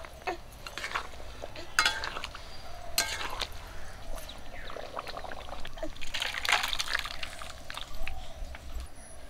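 Duck meat curry in a pot over a village cooking fire, garam masala powder being added, with close clinking, scraping and stirring of utensils in short bursts against a steady low background.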